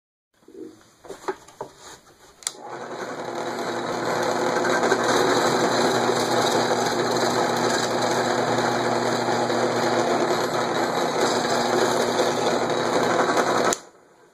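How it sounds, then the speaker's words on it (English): A drill fitted with a 3/8 inch bit bores bolt holes in a router dovetail jig clamp bar, a few brief starts followed by one long, loud, steady whine that stops abruptly. "And now with a 3/8 diameter drill bit to match the bolts, we can drill those holes."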